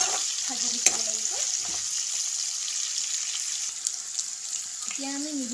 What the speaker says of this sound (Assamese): এতিয়া আমি তেলখিনি গৰম কৰি লৈ তাত অকণমান নহৰু, পিঁয়াজ আৰু কেঁচা জলকীয়া দি দিছোঁ